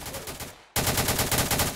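Rapid automatic gunfire aimed at a battleship in the naval video game Harbor Havoc, a dense, loud stream of evenly spaced shots that breaks off briefly and then resumes with no talking.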